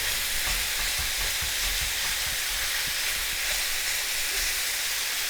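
Salted meat cooking in a pan for Ali Nazik: a steady, close, even sizzle with occasional soft pops and no talking.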